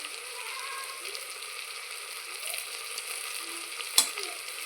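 Chopped onions fry in a pan with turmeric and salt for masala rice, giving a steady, close hiss of sizzling oil with faint stirring scrapes and one sharp click near the end. No one speaks.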